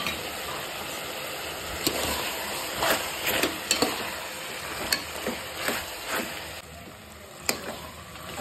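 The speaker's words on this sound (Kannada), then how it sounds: "ನೀರೆಲ್ಲ ಹಿಂಗಿದ್ಮೇಲೆ ಈಗ ಟೊಮೊಟೊ ರಸನ ಹಾಕಬೇಕು, ರುಬ್ಬಿದ್ವಲ್ಲ ಅದನ್ನು." Ground tomato puree added to mutton masala in a pan, a steady sizzle with intermittent sharp scrapes and clacks of stirring, close and fairly quiet.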